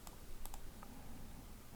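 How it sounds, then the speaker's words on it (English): A few light computer mouse clicks, sparse and quiet, tap over a faint background hiss during CorelDraw editing, with no talk. "And to remove the outline, right mouse click."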